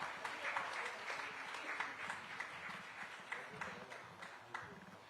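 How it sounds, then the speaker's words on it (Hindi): Audience applause at a Hindi-language conclave, steady dense clapping filling the whole stretch at moderate level, with faint voices murmuring underneath. "तालियों में कोई कमी ना हो।"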